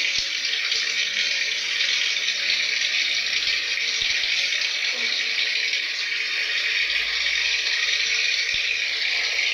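Water pours steadily into a Daewoo automatic washing machine as it fills, a constant hissing gush with a low background rumble, close by and running the whole time.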